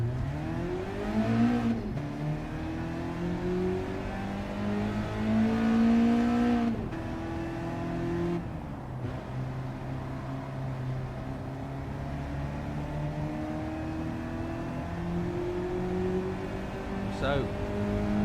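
A racing car engine revs and accelerates steadily, its pitch rising and falling, with a voice talking over it throughout.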